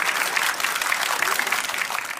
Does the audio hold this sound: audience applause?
yes